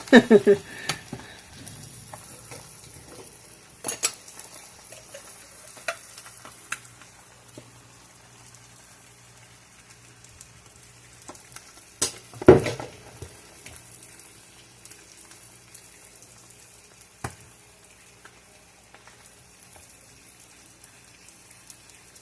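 Breakfast sandwich food sizzling on a stove top griddle, a faint steady crackle with scattered clicks and a few louder scraping knocks from flipping.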